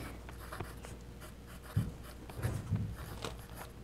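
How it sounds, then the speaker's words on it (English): A fountain-style pen loaded with sketching ink scratches across paper in short strokes, soft and close over a faint room hum, with no one speaking. "Testing the sketching ink."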